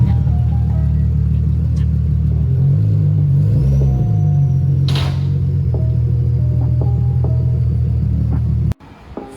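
A 2019 orange Nissan 370Z strapped to a dyno idles with a steady, deep engine rumble that dips and shifts slightly in pitch midway, ending with an abrupt cut near the close.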